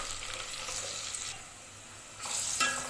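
Tempering seeds and onions fry in a pan for a Telugu brinjal, potato and chana dal curry, a steady close sizzle with brief stirring scrapes and no talk.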